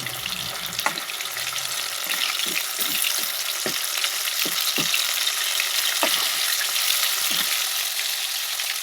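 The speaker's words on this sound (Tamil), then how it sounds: "எண்ணெய் காஞ்சிக்கிட்டேன் போட்டுட்டு சிக்கனை" Chicken pieces fry in hot oil for a Nagercoil-style chicken fry, giving a loud, steady close sizzle broken by scattered pops and the occasional scrape of stirring.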